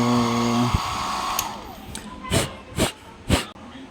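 A loud blower hisses in long surges, three strong bursts near the end, with a harmonic hum and speech at the start, drying fog from a Honda Click motorcycle panel.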